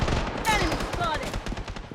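A short rapid burst of automatic gunfire in the shooter game Blood Strike, close and dense, with a game voice callout layered over it.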